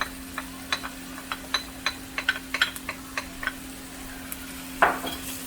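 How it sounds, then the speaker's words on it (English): Onion and garlic sautéing in a pan for a poblano shrimp Alfredo pasta, with a soft sizzle under a run of light scraping and tapping stir strokes, close and fairly quiet. "make sure you saute your onion for maybe like 2 minutes, 2 or 3 minutes"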